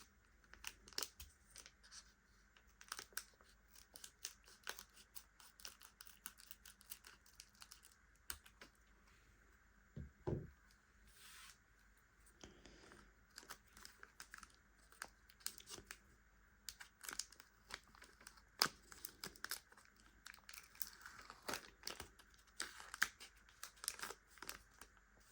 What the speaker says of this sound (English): Let's see if the scissors are going to work a little bit better on this one.